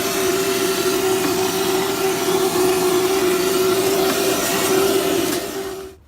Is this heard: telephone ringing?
no